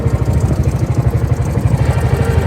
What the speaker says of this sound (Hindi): ये इसका इंजन है जी